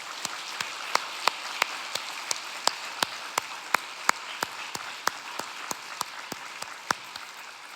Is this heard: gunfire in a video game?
no